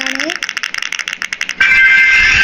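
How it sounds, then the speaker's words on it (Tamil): Rapid clicking clatter of keys, close and loud, in a quick irregular rhythm, then a sudden steady electronic tone takes over. "கீபோர்ட் சத்தம் தாங்க வெறுக்கணமாக இருக்குது"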